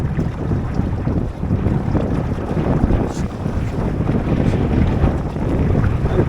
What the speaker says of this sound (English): We have got some wind picking up.